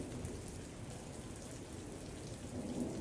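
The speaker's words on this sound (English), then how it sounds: "All of you are hearing the heavy amount of storm and water coming down." Heavy rain pours down steadily in a storm, a dense, continuous hiss of falling water with low rumbling underneath, fairly quiet and unbroken throughout, with no voices.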